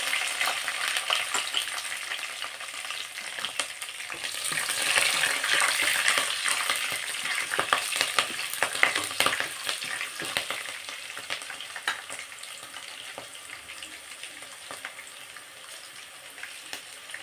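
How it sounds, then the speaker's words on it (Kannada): Mustard seeds and curry leaves crackle and sizzle in hot oil for a lemon rice tempering, a dense close spitting and popping that swells in the middle and then eases off. "ನೋಡಿ ಈ ಥರ ಚಟಪಟ ಅನ್ನಬೇಕು"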